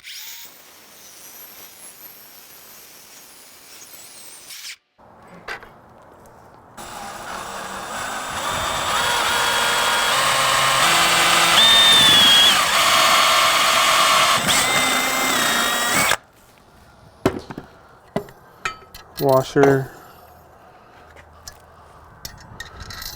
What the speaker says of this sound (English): I'm going to be using my Milwaukee to cut these track tubes